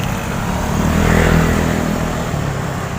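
A motorcycle passes by outdoors, a loud broad engine roar that swells to a peak midway and eases off again, steady throughout.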